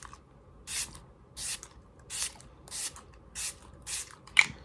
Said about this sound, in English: I'm going to set everything with this Smashbox primer water